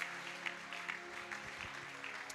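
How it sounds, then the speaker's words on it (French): A church congregation claps in a steady, moderate patter of applause, heard at a distance in a reverberant hall. "Acclame la parole du Seigneur."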